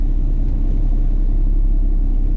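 A pickup truck creeps forward into a parking spot, a steady low engine rumble idling close by with no clear revving.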